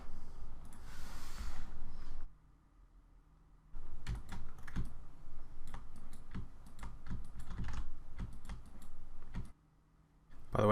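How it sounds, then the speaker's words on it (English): A broken Wacom tablet pen gives rapid, irregular, light clicks, close and dry, in a quiet room during digital painting, with short pauses and no talk. "if you hear me clicking while I'm painting, that's because my Wacom tablet just broke"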